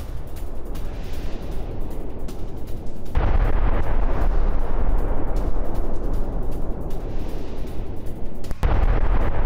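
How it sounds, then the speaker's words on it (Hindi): Bombing of Damascus, Syria, heard as a dense, continuous roar of blasts and rumbling detonations in news footage, loud and sustained with sudden heavier bursts partway through. "सीरिया की राजधानी दमिश्क पर बमबारी"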